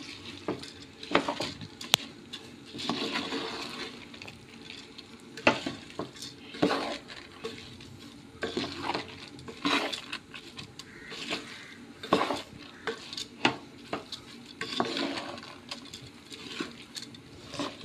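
Rice being stirred in a pan for Goan prawn pulao, repeated scraping and clanking of a spoon against the pan in an uneven rhythm over a faint sizzle.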